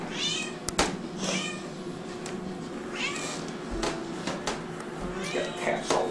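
Several cats meow repeatedly, close and overlapping, with brief voices mixed in among the calls.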